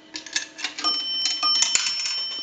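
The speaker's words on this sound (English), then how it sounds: "We'll use a dime. That'll go ring the bell twice." Coin signal bell inside an Automatic Electric three-slot payphone, struck as a dime drops, giving two close bright metallic dings with a lingering ring, near and clear with no talk.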